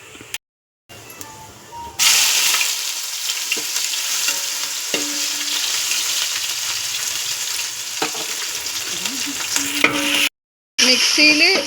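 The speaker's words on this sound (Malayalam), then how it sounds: "ഇതെല്ലാം നല്ല വഴണ്ടി വരുമ്പോൾ നമ്മൾക്ക് ഇഞ്ചിയും വെളുത്തുള്ളിയും കുത്തിച്ചതച്ചത് അത് ചേർത്ത് കൊടുക്കാം." A chicken gravy base of sautéed ingredients, with crushed ginger and garlic, fries in a pan, producing loud continuous sizzling and stirring. Short silent gaps fall near the beginning and end.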